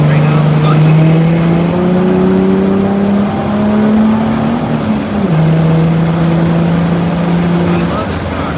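A small 200-horsepower race car on a race track, its engine droning loud and close with a steady hum that climbs gradually in pitch, dips briefly at a gear change, then holds steady again.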